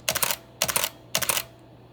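A Sigma SD9 camera shutter firing a continuous burst of three shots, each a quick mechanical clatter of clicks, evenly spaced about half a second apart, close and crisp in a quiet room.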